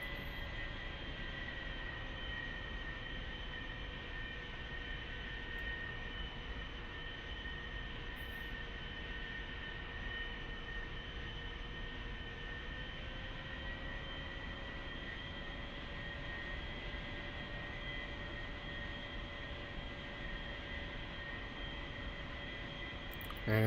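A-4E jet in DCS World rolling for takeoff, a steady loud engine roar with sustained whining tones that hold for the whole stretch, one tone shifting slightly in pitch midway, no talk over it.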